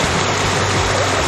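Rushing water pours over Pinawa Dam falls in heavy flow, a steady, loud, broadband roar that stays constant and close for the whole moment.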